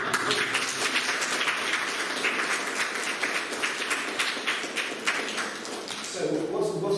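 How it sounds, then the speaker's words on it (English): Year 6 pupils at a primary school give an enthusiastic round of applause during a talk. Loud, dense clapping fills the room for several seconds before an adult voice speaks over the fading claps. "I think you deserve a round of applause."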